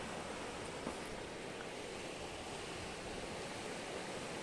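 Sea waves roll in at Muzhappilangad beach in Kannur, a steady, even wash of surf with no clear individual breaks, heard from some distance.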